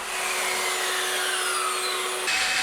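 A power saw cuts steadily through an old wooden table top, a loud continuous whine under broadband grinding noise that shifts pitch slightly near the end, with no talking.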